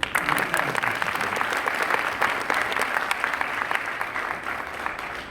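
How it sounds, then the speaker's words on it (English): Graduation ceremony audience applauding, a dense, even wash of many hands clapping at moderate volume throughout, with no voices over it. "give them a round of applause, please"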